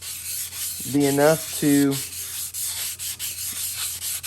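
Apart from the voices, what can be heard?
light sanding of a Honda TRX90 engine cylinder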